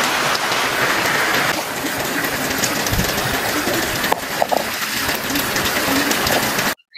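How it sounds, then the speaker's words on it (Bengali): Heavy monsoon rain pouring steadily, a dense close hiss of drops on surfaces with a few louder knocks, loud and continuous with no talk. "প্রচুর পরিমাণে বৃষ্টি হচ্ছে"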